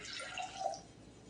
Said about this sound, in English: So we're going to add the 1 1/4 cups of water